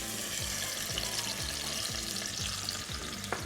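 Peeled, seeded tomato quarters fry in olive and sunflower oil, a soft continuous sizzle with light bubbling and faint clinks, heard close and without voices.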